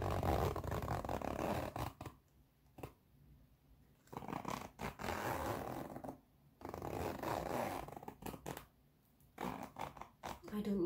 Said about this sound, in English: I know some people like zippy sounds